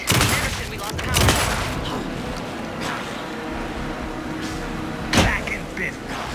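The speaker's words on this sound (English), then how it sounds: "Anderson, put him down with gunfire for me to get a light on him" Gunfire rings out in the video game Alan Wake 2, several sharp loud shots at irregular intervals amid tense game sound and occasional voices.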